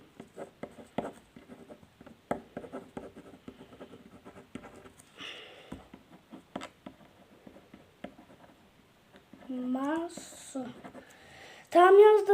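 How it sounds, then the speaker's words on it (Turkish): A pen or pencil writes a name on paper for a drawing contest, making close, scratchy strokes and taps at an irregular pace. Brief vocal sounds come in near the end. "Tabii şuraya yazalım ismini."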